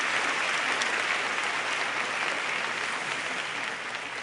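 Audience at an interfaith summit applauding, a steady, dense roar of many hands clapping throughout, fading only slightly near the end.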